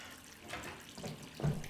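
Tap water runs steadily in a house bathroom, a moderate continuous splash that swells briefly near the end, with no voices over it.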